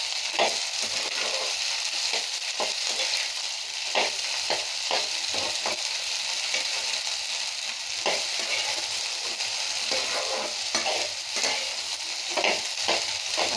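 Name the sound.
stirring okra (lady finger) frying in a pan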